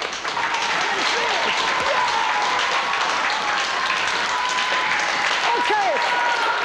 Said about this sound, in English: So I think we'll start with the applause.